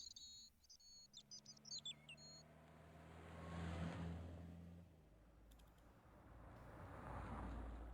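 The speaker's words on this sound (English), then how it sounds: "these cars sound really realistic" Cars in the Broken Sword: The Shadow of the Templars point-and-click game pass by as a faint engine hum swelling and fading, with a low rumble near the end and bird chirps early on.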